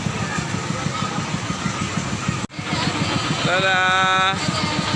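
Drive engine of a ferris-wheel-style amusement ride at a fairground, a steady mid-pitched mechanical chugging hum that cuts out briefly then resumes, swelling with a whining tone as it runs, while people talk nearby.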